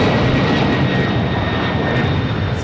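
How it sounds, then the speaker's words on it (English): A big jet at Boston Logan Airport roars past loud and close, a dense continuous engine rumble with a thin high whine running steadily from start to end, no voices. "I can't have the big plane go by and not film it."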